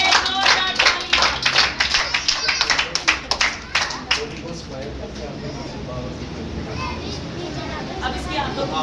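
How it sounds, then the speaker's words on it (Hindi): Clapping from a church congregation during a worship service, dense overlapping claps in bursts over the first few seconds that thin out, with voices and crowd murmur continuing beneath. "खुदा के लिए, बाबू के लिए जोरदार तालियां।"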